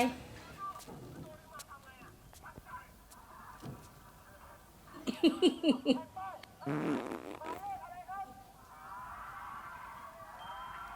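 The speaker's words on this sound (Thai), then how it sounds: "ป้าตดเหรอ" An elderly auntie helping at a market stall lets out a fart: a quick run of short, sputtering pulses midway, close and fairly loud, with faint background bustle around it and no speech.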